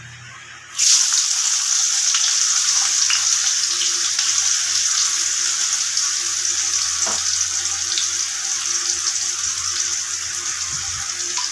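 Chopped onion drops into hot oil with whole spices and small cardamom. It sets off a sudden, loud, steady sizzle that holds evenly for over ten seconds, with only faint scattered pops underneath.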